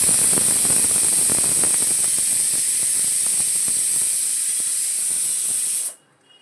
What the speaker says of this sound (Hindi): चलिए भटूरा तलते हैं, देखते कैसा बनेगा।